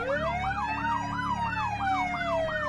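Police sirens wail continuously near a park, a loud warbling electronic tone cycling rapidly up and down while a second tone glides slowly, heard alone without talk.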